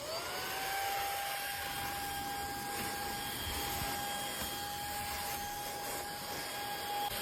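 A cordless handheld vacuum cleaner, with its long pipe removed, runs on its low power mode: a steady, close whooshing airflow with a thin motor whine that stays level for several seconds.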